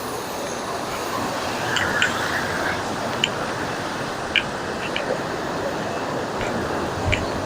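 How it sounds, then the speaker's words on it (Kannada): Water pours down steadily in Wayanad, a broad, constant rushing roar throughout, with a few faint clicks and occasional soft voices in the background. "ನೋಡಿ ಡರ್ಲಿಂಗ್ ಅದೇನು ಸುರಿತೈತೆ ನೀರು."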